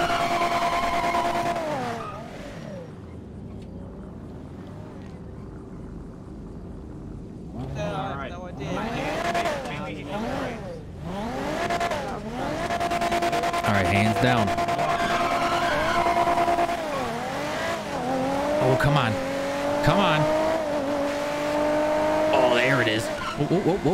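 Toyota Supra tires squealing in GTA 5 as they are heated up before a street race, long wavering screeches and engine revving over about twenty seconds, loud and continuous, with someone talking over them.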